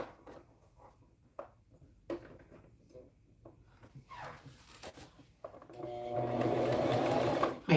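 Scattered handling clicks and fabric rustles lead into a home sewing machine zigzag stitching tiny preemie shorts, a close, steady whirring run lasting about two seconds near the end.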